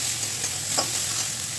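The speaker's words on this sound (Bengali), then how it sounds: "একটু তেল দিলাম, কিছু পেঁয়াজ, লঙ্কা এবং টমেটো তার মধ্যে দিয়ে দিলাম।" Onion, chilli and tomato fry in oil in a pan, a soft continuous sizzle with a brief scrape of stirring partway through, close and fairly quiet, with no voices.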